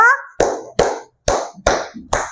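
Five sharp hand claps, evenly spaced and close, following a brief voice at the start.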